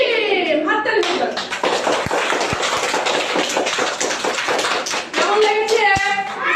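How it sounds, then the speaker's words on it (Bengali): Pre-primary children clapping their hands together in a classroom, a loud, dense burst of many small hands near and far, with a singing or speaking voice before and after it. "হাততালি দিন"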